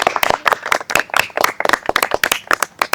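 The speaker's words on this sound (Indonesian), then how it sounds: "boleh semua tepuk tangan buat kita semua." A small group claps together at the close of a school group guidance session, brisk sharp handclaps in a fairly steady rhythm, close and loud, with no talking over them.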